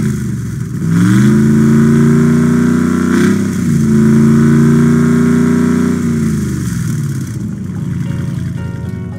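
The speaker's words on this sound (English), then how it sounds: "it's only natural for you to be curious what a supercharged Ram truck might sound like" Supercharged 2023 Ram 1500 TRX engine, loud and close, revs up sharply, holds a high growl with a whine, dips and climbs once more, then winds down to a lower idle.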